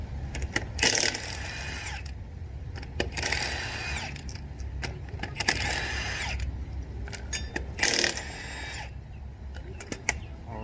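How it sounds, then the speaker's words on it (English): A lug wrench cranking lug nuts loose on a Cadillac Escalade wheel during a flat tire change, repeated bursts of close metallic ratcheting and rattling separated by brief pauses, with no talking. "Just stick your tool on like so, crank it counterclockwise until you can get the lug nut off."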